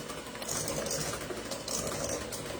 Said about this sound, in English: I'll turn this beater on. It makes a little bit of noise.